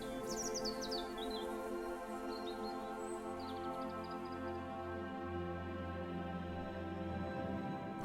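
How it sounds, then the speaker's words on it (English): Seagulls call in the video game Hindsight over a seaside ambience, a few short high cries early on and a couple more midway, fairly faint above a steady background hum. "The seagulls are still flying overhead."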